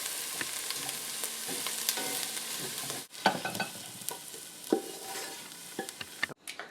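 Chopped onions frying over high heat in a pan for cabbage-roll filling, a loud continuous sizzle with stirring scrapes. It breaks off briefly twice, then returns with sharper clatter and spatula knocks.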